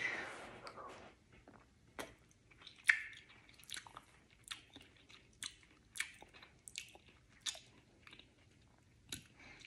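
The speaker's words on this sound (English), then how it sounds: "sometimes I just want to eat an olive." Olives are chewed close to the mouth, with soft wet bites and squishy chewing in an irregular rhythm over a quiet background.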